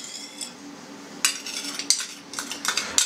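A spoon clinks and scrapes against a bowl while stirring sugar into water and milk for khachapuri dough, a few bright taps over a soft steady swirl, close by and alone.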